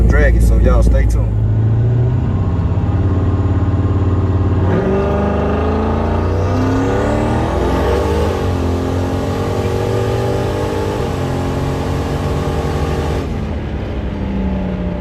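Turbocharged Jon Jones Camaro accelerating hard on radial tires at a drag strip, a loud sustained engine roar rising through the gears with exhaust and turbo tones, a man exclaiming excitedly over it.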